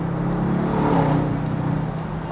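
A 2014 Bentley Continental GT V8 S engine hums steadily from inside the moving car. The tone is low and throaty, rising slightly in the middle, with no talk over it.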